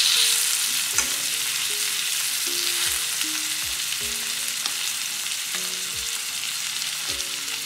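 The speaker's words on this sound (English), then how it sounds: "Gonna place some more butter around the sides to make sure that the outsides of the steak get crispy." A steak frying in butter in a pan sizzles loudly and evenly throughout, with regular low knocks and clunks as the meat or pan is moved, and no one speaking.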